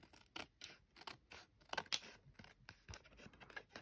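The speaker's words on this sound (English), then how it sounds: "now I'm going to just snip these off" Scissors snip the edges off a paper card in a quick series of crisp, close cuts, about a dozen sharp clicks in an uneven rhythm with no voices.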